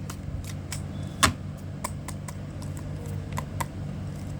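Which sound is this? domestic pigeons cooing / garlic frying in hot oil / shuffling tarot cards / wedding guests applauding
shuffling tarot cards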